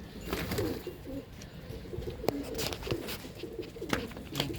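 Several pigeons in a maintained loft in Pandharpur give low rolling coos, overlapping and repeating at close range, with a few sharp clicks and rustles between calls.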